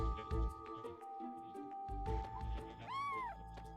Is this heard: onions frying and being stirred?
no